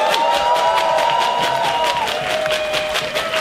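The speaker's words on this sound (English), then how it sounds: "give Mamba a round of applause" Audience applause and cheering for a breakdancer at a dance battle: dense, steady clapping from a crowd with a sustained whistle or shout over it, loud and continuous throughout.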